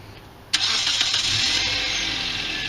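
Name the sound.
2010 Hyundai Elantra engine starting via remote starter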